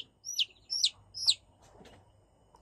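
Chicks chirping during eye-drop vaccination, with three clear high peeps close together near the start, then fainter scattered peeps.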